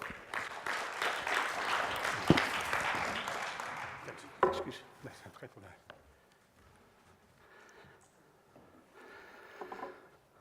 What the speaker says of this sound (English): So I'd like to ask an applause for the presentation of Ivo van Hilvoorde.